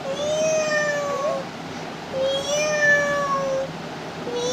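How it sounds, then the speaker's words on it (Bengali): A cat meowing in a home, with several drawn-out, rising and falling calls in close succession, clear and fairly loud over a quiet background. "মিয়াও"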